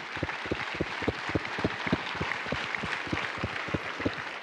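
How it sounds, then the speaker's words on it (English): Rhythmic, evenly spaced clapping from a crowd at a Marine Corps boot camp graduation ceremony in San Diego, honoring educators; steady beats at moderate distance with no speech. "Ladies and gentlemen, round of applause for our educators."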